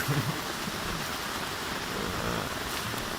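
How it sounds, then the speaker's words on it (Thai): Heavy rain and gusting wind batter a camping tent at Hat Chao Mai National Park, a loud, continuous hiss of downpour with low rumbling buffets against the fabric, steady from start to finish. "ฝนเขย่าเต็นท์ครับตอนนี้ ลมด้วยครับ"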